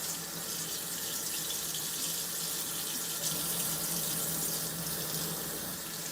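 A spoon is rinsed under a running kitchen tap, with a steady, moderately soft splashing stream of water pouring into the sink throughout.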